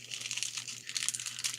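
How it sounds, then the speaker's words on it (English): Thin plastic bag torn open up close at a craft table, a steady run of crackling crinkles and rips with louder bursts near the end, no talking. "which I put in another plastic bag because we have to tear these bags open"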